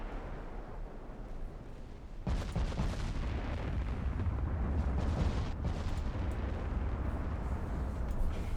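Naval shell fire from battleships in the video game Ultimate Admiral Dreadnoughts erupts as a sudden broadband blast after a quieter start, then rumbles on continuously with dense, overlapping booms.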